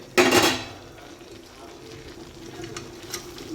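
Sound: stir-frying fried tubers for chilli in pan

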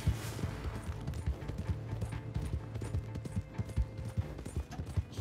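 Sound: horse hooves in video game Red Dead Redemption 2

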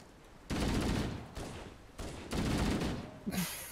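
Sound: gunfire shooting at the player in video game Halo: Combat Evolved

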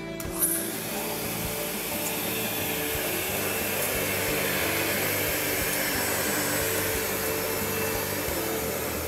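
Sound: commercial vacuum cleaner vacuuming an oriental rug

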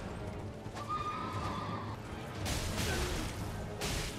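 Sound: Tree Sentinel's horse neighing, from video game Elden Ring

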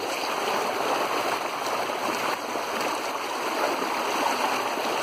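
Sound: flowing stream water

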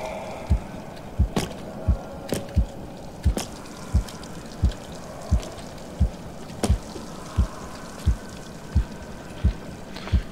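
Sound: heartbeat sound in video game Medusa's Labyrinth

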